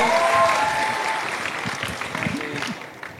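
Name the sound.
law faculty students applauding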